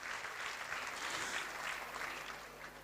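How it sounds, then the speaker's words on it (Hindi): Faint, steady applause from a congregation at a religious discourse rolls on evenly, heard at a distance, with a low hum beneath it. "उनके सम्मान में जोरदार तालियां"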